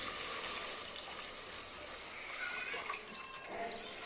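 Tamarind juice poured into a pan of cooking fish curry gives a steady, close liquid wash that stays even for about four seconds with no voices.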